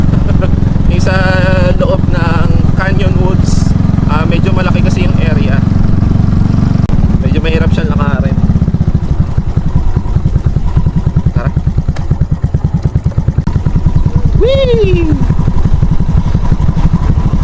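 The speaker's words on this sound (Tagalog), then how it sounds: "Ayaw maglakad ni Mrs. Arky kaya kinuha ko na naman yung motor" A motorcycle is ridden around a residential compound in Batangas, its low engine rumble and clatter droning close and steady while people talk over it early on, before the engine note shifts to a rougher pulsing.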